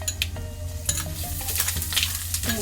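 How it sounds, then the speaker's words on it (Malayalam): Grated coconut stirred into fried cumin, ginger, garlic and curry leaves in a hot pan, with close sizzling and a few sharp scraping clicks of a spoon against the pan. "ഇനി നമുക്ക് തേങ്ങ അതിലേക്ക് ഇട്ട് കൊടുക്കാം"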